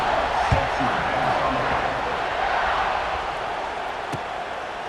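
A stadium crowd buzzes steadily in the College Football 26 video game, a dense, continuous roar that holds at a constant level throughout, with faint thumps and scattered voices mixed inside it.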